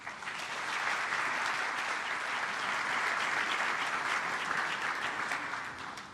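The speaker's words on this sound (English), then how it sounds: "Please, let's give them another round of applause." Sustained applause from a large audience at a corporate forum's opening session, a full, even roar of clapping that holds steady for several seconds before easing off slightly at the end.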